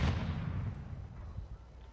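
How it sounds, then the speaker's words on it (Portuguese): A sniper rifle fires from far off in a video game: one sharp boom that trails into a long, rumbling decay, with no voices. "Tiro! Ah, sniper de longe"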